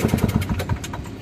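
A Craftsman 5HP single-stage snow blower with a Tecumseh engine runs close by, its small engine putting out a loud, fast, uneven putter that sounds rough from a dirty carburetor.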